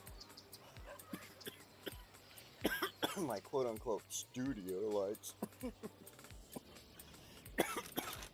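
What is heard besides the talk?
cough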